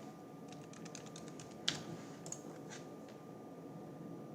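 Light keystrokes on a computer keyboard while logging into a web app, a quick run of soft clicks followed by a few sparse taps, faint and close against a low background hum.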